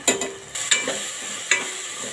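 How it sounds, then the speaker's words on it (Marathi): Spices tempering in hot oil for dal palak sizzle softly while a spatula scrapes and clacks against the pan in a few distinct strokes, close up with no talk. "मिक्स करून घेऊया फोडणी जरा चांगली तेलावर परतून घेऊया आधी"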